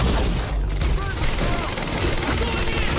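Rapid gunfire from the video game Quantum Break, with dense overlapping volleys and bursts forming a continuous, loud barrage under shouted voices.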